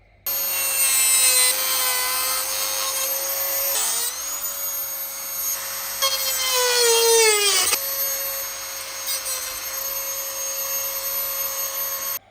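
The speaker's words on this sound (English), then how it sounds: "Now, here's where the Dremel comes in. I'm going to cut straight along there and there." A Dremel rotary tool cuts a plastic hydroponic channel, a close, high-pitched whine rising and dipping in pitch as it bites into the plastic, in several bursts with brief pauses between cuts.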